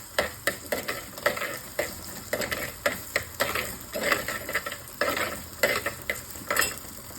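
Ginger, garlic, black pepper and cumin sauté in a kadai for a Kerala-style fish kulambu masala, with a steady sizzle broken by rhythmic scraping stirs of a spoon against the pan, close up and without talk.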